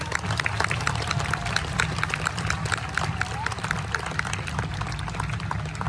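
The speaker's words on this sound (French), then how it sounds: "Messire Raymond de Morteser soit accompagné sous les applaudissements les plus chaleureux" Spectators applauding at a medieval festival joust in Domfront, dense continuous clapping from the crowd with an announcer's voice over it and faint rhythmic hoofbeats underneath.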